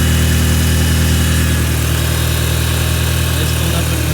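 An Audi TT engine idles after an oil change, a loud, close, steady low hum with constant vibration and no talk over it.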